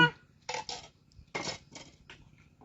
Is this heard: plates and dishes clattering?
yes